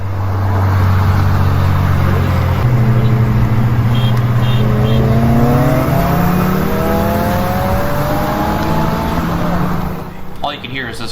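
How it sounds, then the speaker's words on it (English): A 10th gen Honda Civic Si engine drones loudly while driving, climbing steadily in pitch through rising revs with a gear change, then easing off near the end. "All you can hear is this car"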